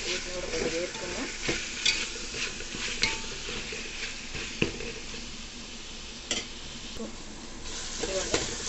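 Mint and coriander leaves frying and being stirred in a pan, with steady close sizzling broken by scrapes and clinks of a utensil against the metal throughout.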